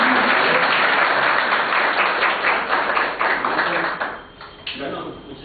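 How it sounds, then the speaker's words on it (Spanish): An audience claps at a rural youth leadership workshop in El Salvador, loud and close at first, then fading to a few scattered claps. "Quisiera que pasáramos y le diéramos un gran aplauso."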